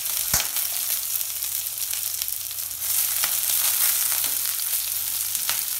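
Ginger, green chilies and curry leaves fry in hot oil with urad dal and chana dal, a steady close sizzle broken by a few sharp pops and crackles.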